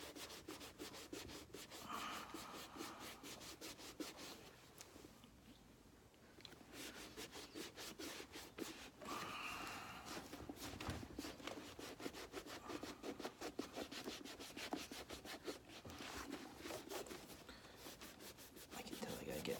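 A leather shoe edge and midsole lip are burnished by hand, giving dense, fast rubbing strokes close up. The friction noise runs almost continuously, with a brief pause near the start.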